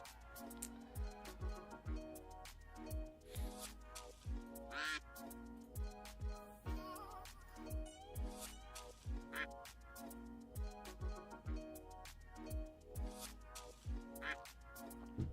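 Repeated duck quacks sound as chat alerts during a live day-trading stream, popping out in quick bursts over busy rhythmic background music for the whole stretch, steady and fairly loud.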